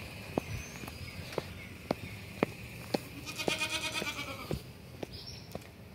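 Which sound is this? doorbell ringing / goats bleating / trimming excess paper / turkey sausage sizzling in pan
goats bleating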